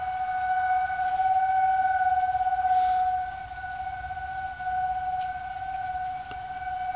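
An outdoor tornado warning siren wails as a steady, sustained tone that swells and dips slightly, heard from a distance with no talking.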